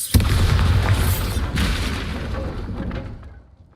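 A Bombarda spell explodes in Hogwarts Legacy, a deep, heavy boom that hits suddenly, surges again about a second later, then rumbles and fades away over a few seconds.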